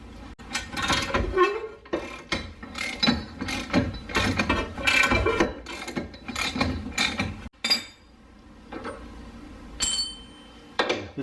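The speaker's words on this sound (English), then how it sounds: "I'm going to throw my 1/2 inch breaker bar on here and break it loose" A 1/2 inch breaker bar loosening a tie rod during front suspension work on an R32 Skyline GT-R gives close, repeated metallic ratcheting clicks and clunks in short bursts, with brief pauses between efforts.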